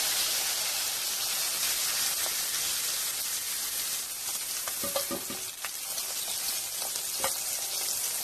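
Pomfret fish fry in hot oil with a loud, steady sizzle and hiss that fills the clip, broken by a few crackles and light clinks of a utensil, with no voices.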